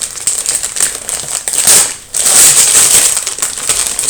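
A parcel's packaging is torn and crumpled open by hand, without scissors, indoors. Loud, close crinkling and ripping bursts come in quick succession, with a brief pause midway before more tearing.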